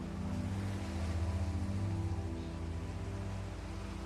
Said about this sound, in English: Waves meeting the shoreline below in slow, rhythmic pulses.